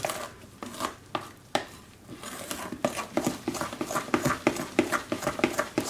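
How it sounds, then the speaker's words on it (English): Milk being stirred into cocoa powder in a bowl with a spoon, heard as a run of soft, close, irregular taps and scrapes that quicken and grow busier over the second half, with no voices. "Now I'm just going to stir this in."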